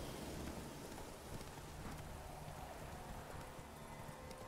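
Roach the horse clip-clops along in the rain in The Witcher 3: Hearts of Stone, soft hoofbeats blending into a steady, faint hiss of rainfall that fills the whole stretch at low volume.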